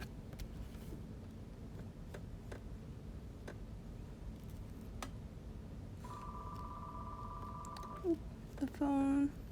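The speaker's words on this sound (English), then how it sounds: "The phone." A telephone rings in short electronic trills near the end, over a faint background hum with scattered ticks.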